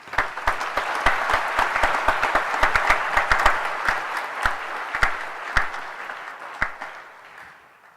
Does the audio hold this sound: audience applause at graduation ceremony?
yes